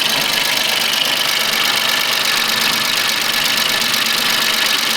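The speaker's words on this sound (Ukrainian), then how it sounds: "Трактор працює нормально" A Japanese mini tractor's engine, freshly overhauled, runs steadily and close, a constant even drone with a fine rapid knocking texture and no voices.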